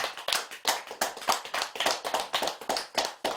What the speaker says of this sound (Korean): 우리 박수 한번 크게 쳐드립시다.